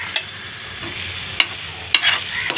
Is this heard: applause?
no